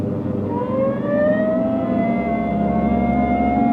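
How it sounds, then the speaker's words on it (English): Police car siren wailing in a long rising and steady tone over a running engine, loud and close, with no talk over it. "Hit the siren."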